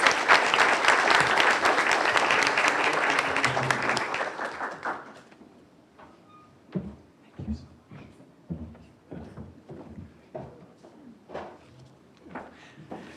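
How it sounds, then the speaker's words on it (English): An audience in a hall applauds as the new superintendent of Manatee County Schools is introduced, with dense clapping for about five seconds before it fades into scattered claps and small room noises. "Please give him a round of applause as he comes."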